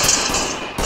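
Suppressing gunfire in the Ready or Not tactical shooter, two sharp loud shots with a short crackling decay between them.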